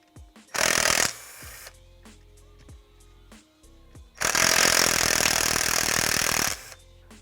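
Power tool running off the 10 millimeter lid bolts on a 2018+ Ford Mustang engine, two loud close bursts of whirring with softer clicks and handling noises in between.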